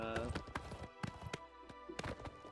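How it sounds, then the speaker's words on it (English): A horse gallops in the video game Elder Scrolls Oblivion Remastered, its hoofbeats coming as quick, sharp, close clip-clops, faint in level and mixed with other game sounds. "They changed the noise of the horse's gallop."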